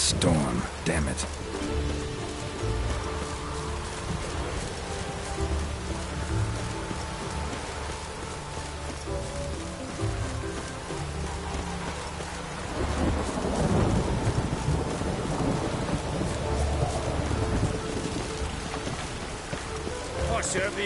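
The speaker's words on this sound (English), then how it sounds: "A storm, damn it." Heavy rain pours steadily with rumbling thunder rolling through a stormy scene in a PS4 video game, the downpour loud and continuous and swelling again in the second half, while a voice talks faintly underneath.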